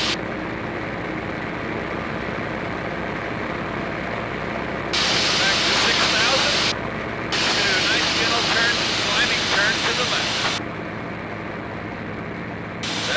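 Texan T-6 airplane in flight, heard from inside as a steady broadband engine and propeller roar under intercom talk, growing louder in the middle stretch before easing back.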